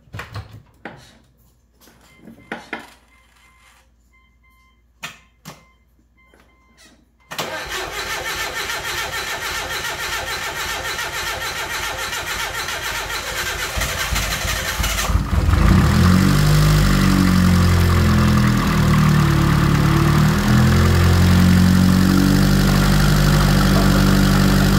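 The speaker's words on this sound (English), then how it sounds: "So let's go ahead and just crank it." Mitsubishi 4G15 turbo engine with a repaired bent valve cranks briefly after some clicks and shuffling, catches, and settles into a loud, steady close idle that rises in level partway through.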